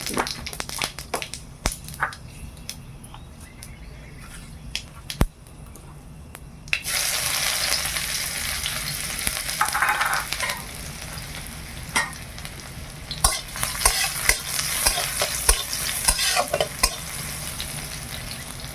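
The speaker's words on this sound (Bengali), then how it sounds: "দুটো লঙ্কা কেটে দিয়ে দিলাম, একটু ফোড়ন দিলাম" Cut green chilies and whole spices hit hot oil in a village kitchen for a vegetable stem curry. Quiet clinks give way to a sudden, loud, sustained sizzle, with scattered ticks and stirring on top and no talking.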